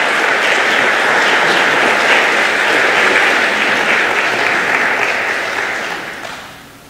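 Sustained audience applause welcoming speakers onto a stage at an evening talk, a dense steady clatter of many hands that holds loud for several seconds and then tapers off.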